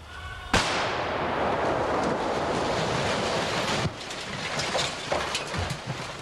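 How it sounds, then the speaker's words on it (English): A sudden loud blast as explosives destroy a moonshine still, followed by a long roaring rumble that slowly fades, then a few scattered thuds, with no voices. "they destroy the still setup with a concussive explosion"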